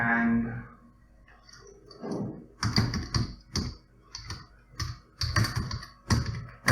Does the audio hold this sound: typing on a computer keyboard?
yes